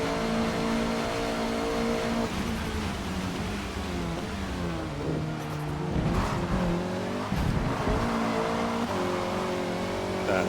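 A Honda Civic racing at the Nurburgring in Forza Motorsport, its engine droning and revving through gear changes while the tires squeal and scrub through the corners, loud and close.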